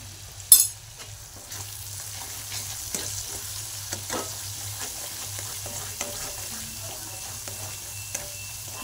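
Spice masala roasting in a pan for egg curry, a soft steady sizzle with an early sharp clack and intermittent scraping stirs, no voices.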